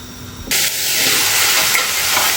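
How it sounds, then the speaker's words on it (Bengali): Onions dropped into hot oil, a sudden loud hiss and sizzle that then continues steadily at close range, with no talking. "সুন্দর বাগার হয়েছি, তেল গরমে আমি পেঁয়াজ দিয়েছি।"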